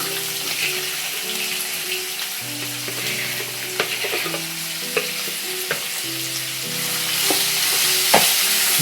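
Chopped onion sizzles and fries in a home kitchen pan, a steady close crackle with occasional stirring scrapes and clinks, no talking.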